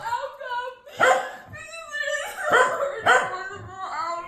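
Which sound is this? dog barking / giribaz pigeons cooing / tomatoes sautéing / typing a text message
dog barking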